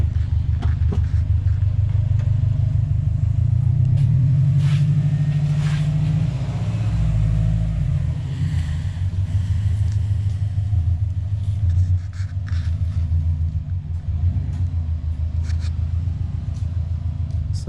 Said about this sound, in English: So we're just gonna pull in the STI the other way